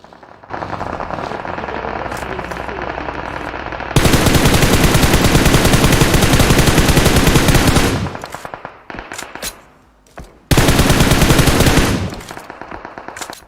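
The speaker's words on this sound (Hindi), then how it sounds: "हमको स्कूल के अंदर से गोलियां सुनाई देती" Loud automatic gunfire from a PUBG Mobile match rattles in two sustained bursts, the first several seconds long and the second shorter after a brief lull, over quieter game ambience.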